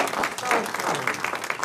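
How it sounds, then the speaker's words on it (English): Church congregation at a United Methodist service in Palestine, Texas, giving a brief round of applause, scattered clapping that starts and stops quickly with some speech mixed in. "Give her a round of applause."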